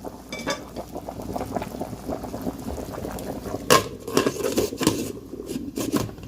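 Spaghetti is tossed with a regular spoon in a pot of boiling water, giving a continuous bubbling boil with scraping, clattering stir sounds that grow busier and louder toward the end.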